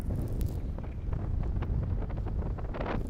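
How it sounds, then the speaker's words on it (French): Strong wind buffets the microphone at a high coastal paragliding launch site at Saint-Pabu, a loud continuous roaring rumble with no other sounds. "Le vent est un peu fort alors."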